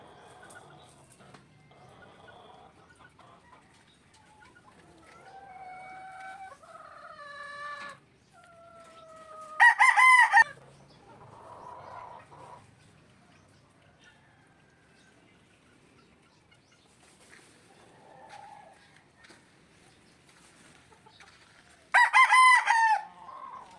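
Roosters crow loudly twice, nearby, amid scattered clucks and calls from other chickens in a quiet outdoor setting.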